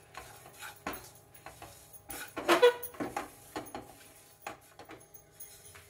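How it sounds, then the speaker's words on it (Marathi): Poppy seeds roast in a pan while a spoon stirs them steadily, giving soft scraping and light metallic clinks in an irregular rhythm, close and moderately quiet, with one louder knock midway. "त्यामुळे कंटिन्यू हलवत राहून खसखस भाजून घ्यायची छान"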